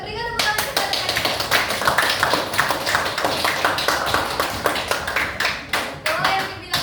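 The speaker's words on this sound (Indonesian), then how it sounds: "berikan tepuk tangan kepada kalian" Classroom applause, many hands clapping together in a dense, steady burst with sharp individual claps standing out, fairly loud and close throughout, with no talking over it.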